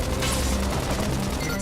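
Gunfire in the sci-fi video game Xenoblade Chronicles X: a loud, dense, continuous barrage of shots and blasts that fills the whole stretch without a break.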